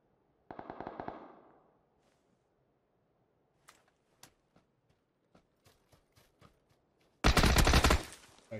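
Bursts of gunfire in the PUBG battle royale shooter: a loud automatic burst opens, then scattered single distant shots crack out over a quiet stretch, before a second heavy, dense burst of rapid fire closes.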